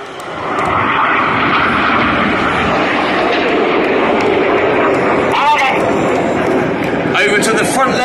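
Red Arrows jets roar continuously overhead during an airshow display at East Fortune, a loud, sustained engine rush while a commentator talks over it throughout.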